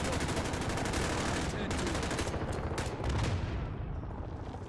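Shotgun fire and dense gunfighting in the Call of Duty: Modern Warfare campaign, loud and continuous blasts layered with rapid shots and battle noise for several seconds.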